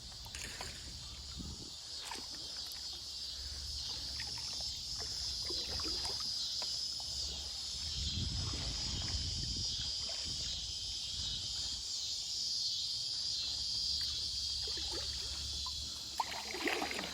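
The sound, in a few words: cicadas buzzing loudly by the river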